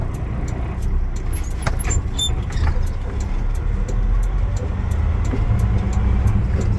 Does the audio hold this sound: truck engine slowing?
yes